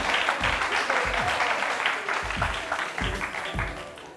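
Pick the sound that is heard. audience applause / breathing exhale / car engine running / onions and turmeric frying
audience applause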